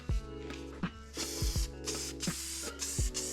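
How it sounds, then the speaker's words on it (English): Cleaning product sprayed over the engine bay of a 2012 Chevy Cruze in short repeated bursts, each a sharp hiss close to the nozzle, over a steady low background hum. "and just spray everything down."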